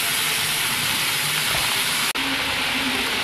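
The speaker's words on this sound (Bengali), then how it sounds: "জল দিয়ে দিলাম" Water poured onto spice paste frying in a pan sends up a loud, roaring hiss of steam that runs almost without a break, dropping out for an instant before surging on; no talking.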